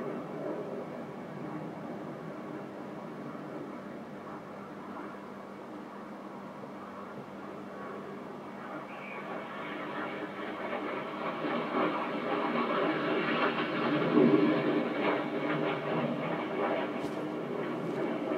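Red Arrows jets flying a display manoeuvre at an air show over Eastbourne, heard as a distant roar that swells gradually louder toward the end.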